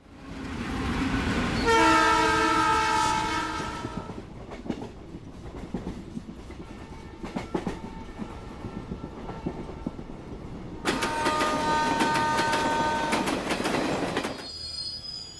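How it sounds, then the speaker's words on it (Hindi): Passenger train at a railway station platform, with loud wheel squeal and rumbling carriages, a pause of quieter clatter, then another stretch of screeching wheels and a brief horn-like tone near the end; no talking. "मुंबई से दिल्ली जाने वाली ट्रेन प्लेटफॉर्म नंबर 1 से जाएगी"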